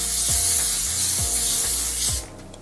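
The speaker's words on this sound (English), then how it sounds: "I'm going to take the spray and spray this area." A continuous hiss of aerosol hair spray close up on a wig, lasting about two seconds before cutting off, with faint low clicks underneath.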